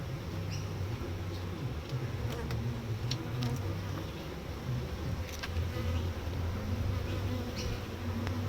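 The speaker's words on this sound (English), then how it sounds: "It's a lot of bees though" Honey bees buzz around a beehive, a dense continuous hum close by with individual bees zipping past now and then.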